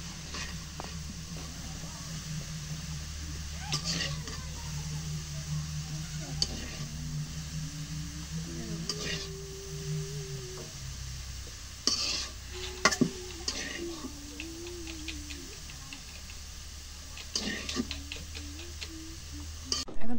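Sweet pumpkin greens stirred in hot oil in a pan, with scattered scraping and tapping of a utensil over a low background hum and a faint sizzle, fairly quiet and close.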